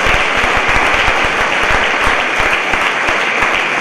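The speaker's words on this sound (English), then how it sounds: "Big round of applause for all these people." Loud, dense applause from an audience at a board orientation programme for women, with sustained clapping that continues evenly for several seconds.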